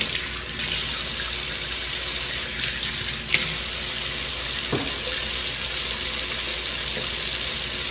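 Tap water runs loud and close and steady into a sink while hands are lathered with soap, with a few brief splashes and shifts in the flow.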